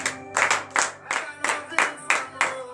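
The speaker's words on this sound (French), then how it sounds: "Donnez de vive acclamation à l'Éternel." Congregation at a Saturday morning prayer service in Benin clapping in a steady rhythmic pattern, about two claps per second, loud and close with a faint tonal background underneath.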